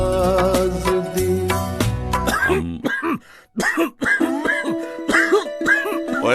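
A man coughs and clears his throat repeatedly in a Hindi cough syrup commercial, harsh bursts coming close together, with a brief quiet gap midway and music underneath.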